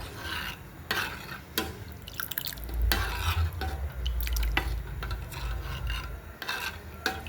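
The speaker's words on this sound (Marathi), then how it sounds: "आता आपल्याला पाहिजे तसं पाणी ओतायचं आहे" Water poured into a pot of cooking dal for a tamarind-jaggery amti, a soft rough splashing and stirring rasp under faint clatter, close by, with no speech.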